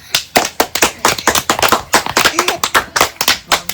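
Audience clapping breaks out for the winner of a Nepali challenge game, a quick burst of sharp, fairly close hand claps with an uneven rhythm that keeps going without a pause.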